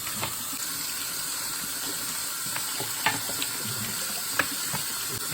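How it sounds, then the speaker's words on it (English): Hot water runs steadily from a kitchen tap into a sink, a continuous broadband hiss with a few faint clinks and splashes as something is rinsed under the stream. "let's just turn the water on."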